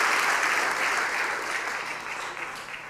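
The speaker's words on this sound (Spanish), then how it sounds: "Le damos un fuerte aplauso al Señor" A church congregation claps in sustained, dense applause, loud at first and gradually thinning out over a few seconds.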